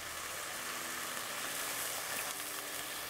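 Red wine sizzles in a hot pan with lamb, a steady, close crackling hiss that holds evenly throughout, with no talking.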